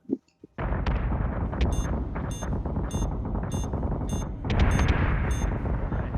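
Gunfire and torpedo explosions from a naval video game erupt in loud, dense booms and rumbling blasts, with repeated sharp reports over a sustained roar.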